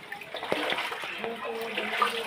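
Floodwater from heavy rain sloshes and splashes inside a house, a close, continuous watery churning with small knocks and ripples.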